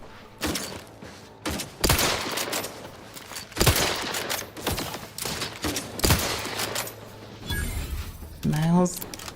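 Gunfight in The Outer Worlds 2 video game: scattered bursts of gunfire and heavy impacts, irregular and loud, with voices speaking in between.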